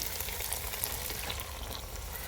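Turmeric, cumin and chilli powder being sautéed in oil for a Bengali curry give a dense, continuous sizzle, close and steady throughout with faint crackles on top.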